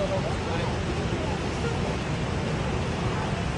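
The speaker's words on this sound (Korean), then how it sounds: "물이 이렇게 흘러가지고 밑으로 떨어지게 되죠." Water of Niagara Falls rushing and plunging down: a dense, continuous, even roar that fills the whole stretch with no pauses.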